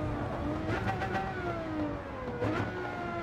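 A Lamborghini Murcielago LP 640 V12 races in Gran Turismo 7 on the Tokyo circuit, its engine note climbing and falling through gear changes with a sharp upshift near the end, steady and close without talk.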